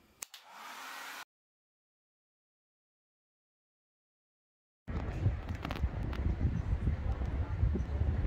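After a brief hiss and a stretch of silence, heavy wind buffets the microphone at Byron Bay with a loud, continuous low rumble.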